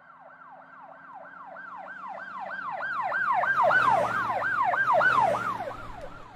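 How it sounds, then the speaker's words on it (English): A wailing police siren effect in an Afrobeat mix sweeps up and down in a steady rhythm, swelling louder mid-clip and then easing off as if a car passes by. No voices. "this kind of police siren"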